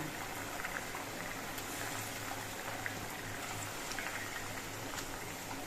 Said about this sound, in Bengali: এবার মাছ দিয়ে ঝোলটা আরও কিছুক্ষণ ফুটিয়ে নিতে হবে